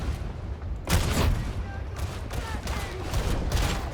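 Enemies fire guns in the video game Darktide, with repeated sharp volleys of shots popping out in clusters over a constant combat rumble, while a voice talks.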